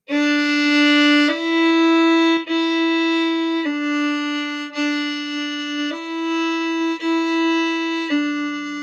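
A bowed string instrument plays a sequence of smoothly connected notes, each one sustained with a rich tone and no silence between them.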